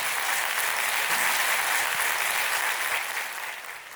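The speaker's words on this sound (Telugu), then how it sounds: "clap for every" A large audience at a Vedic Upanishad festival claps steadily, a dense, sustained wash of applause that holds strong and then eases slightly toward the end.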